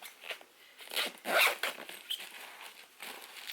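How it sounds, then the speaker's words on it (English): A suitcase zipper that is breaking is pulled in short, rasping strokes, quiet and close, with a few brief pauses between the tugs. "my zipper is breaking on this one"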